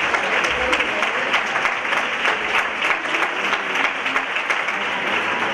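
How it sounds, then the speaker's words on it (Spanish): Audience applause fills a theatre during the Miss Grand Huelva final in La Palma del Condado, a dense, steady wash of many hands clapping at close range, sustained throughout without pause. "Un fuerte aplauso para ella."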